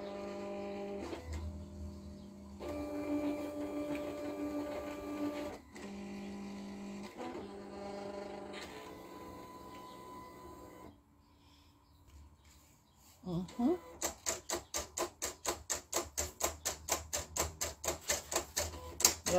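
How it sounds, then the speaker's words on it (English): A Silhouette Cameo 3 cutting machine reads registration marks with whirring motor runs and stops, then a brief quiet before a fast, regular series of mechanical ticks and pulses toward the end. "It's reading the registration marks."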